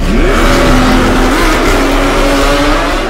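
A Ferrari Purosangue V12 fitted with a Novitec exhaust revs hard and close, its engine note climbing, holding, then sweeping higher in a loud, continuous snarl.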